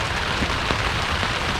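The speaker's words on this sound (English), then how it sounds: "it's raining now" Steady rain patters on a camping tent, a close, dense, even hiss with no pauses and no voices.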